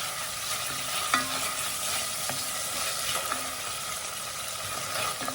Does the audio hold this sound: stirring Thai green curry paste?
yes